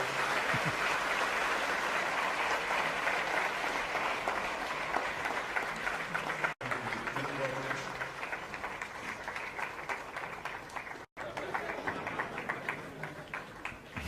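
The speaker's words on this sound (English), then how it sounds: "Ladies and gentlemen, the Sadhguru, a round of applause." A live audience applauds Sadhguru at an onstage event, a dense, sustained wash of clapping that stays loud throughout with two brief dropouts.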